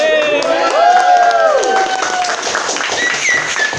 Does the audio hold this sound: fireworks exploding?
no